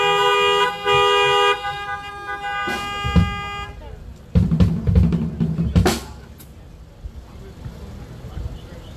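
Car horns honk in the lot of a drive-in church service, one long steady blast at first, then a cluster of shorter toots from several vehicles, fairly loud and close.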